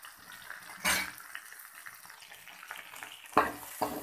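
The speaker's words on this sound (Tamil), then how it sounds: "நான் வெங்காயம் போட்டுட்டு நல்லா வதக்கிக்கோங்க." Onions sautéing in hot oil for a chow chow gravy, a soft steady sizzle broken by a few louder stirring scrapes and clatters of a utensil against the pan.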